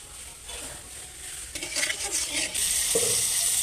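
Hot oil sizzling in a pan with a little salt and turmeric added before potatoes go in, a close hiss that swells louder partway through, with scraping stirs and a metallic knock.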